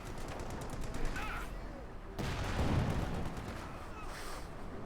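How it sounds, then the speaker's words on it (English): Gunfire from a Company of Heroes 2 battle, with rapid bursts of shots and distant booms rattling on throughout, partly under a voice speaking. "they're firing down here on Ponies' positions"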